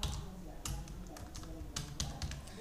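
Password being typed on a computer keyboard, a quick irregular run of faint, close key taps and clicks over a low background, with some talking.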